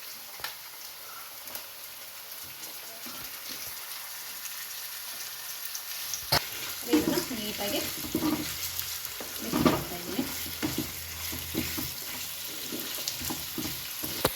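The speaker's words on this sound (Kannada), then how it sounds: "ನೋಡಿ ಟೊಮೊಟೊ ಫ್ರೈ ಆಯಿತು" Tomatoes frying in a pan while cooking chicken biryani, a steady close sizzle with scattered crackles and stirring scrapes that grow busier after the first several seconds; no one speaks.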